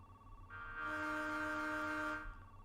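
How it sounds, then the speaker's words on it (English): A locomotive horn from the train simulator game Train Drive ATS 2 sounds as one sustained, steady blast lasting over a second and a half, over a low rumble of the moving train. "Horn."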